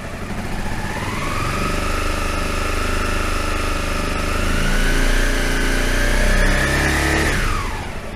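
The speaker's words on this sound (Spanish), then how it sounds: "voy a acelerar la moto" A Honda CBR250R motorcycle engine revs up steadily and holds high revs before dropping back, loud and close, running continuously throughout.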